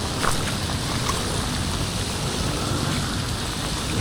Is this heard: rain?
yes